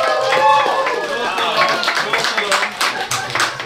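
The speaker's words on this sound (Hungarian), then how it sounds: "Most pedig egy még nagyobb tapsot kérek a rajongóknak." Clapping at a live trap-music quiz show, this time for a team of fans, a quick spatter of hands from the crowd mixed with voices in a lively room.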